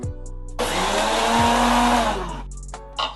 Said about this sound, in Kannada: ಹಾಕಿ ಇದಿಷ್ಟನ್ನು ರುಬ್ಬೋಣ. ಇವಾಗ ಮಿಕ್ಸಿಗೆ ಹಾಕಿ